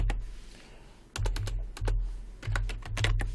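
Typing on a computer keyboard while entering university admission scores, a few separate bursts of close, clattering keystrokes over a low steady hum, ending in a firm key press.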